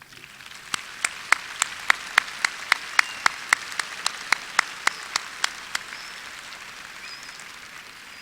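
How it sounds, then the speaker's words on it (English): Audience applause at a fall university commencement ceremony: a broad, steady wash of many hands clapping in a large hall, with a few sharper, louder claps standing out in a regular rhythm before the clapping slowly fades. "stand and accept the applause of these students"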